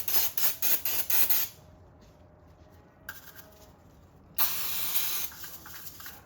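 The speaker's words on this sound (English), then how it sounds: "I got throttle body cleaner if you want to use that. Go ahead and clean it all." Short bursts of throttle body cleaner aerosol spray hiss in quick succession, then a quiet pause, followed by a longer steady spray hiss near the mic, while cleaning Nissan Frontier intake plenum parts off the vehicle.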